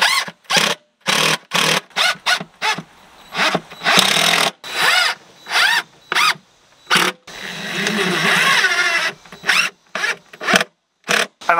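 A power drill drives a screw into a wooden Langstroth hive box, with repeated loud, close bursts of whirring separated by short pauses and one longer sustained run.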